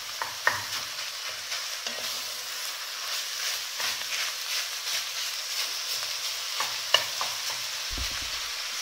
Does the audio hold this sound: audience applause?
no